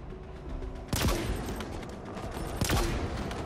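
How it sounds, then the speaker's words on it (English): Shotgun-style rocket launcher fire in Halo Infinite multiplayer, two sharp booming blasts about a second and a half apart over a low ambient game backdrop, with no talk. "Feels like a shotgun rocket launcher though"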